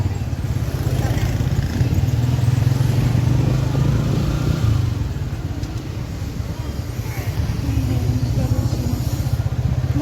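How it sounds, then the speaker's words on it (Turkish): A motorcycle taxi engine rumbles steadily nearby in a crowded holiday market, its low drone rising and falling under constant crowd noise and people talking. "Motor taksi."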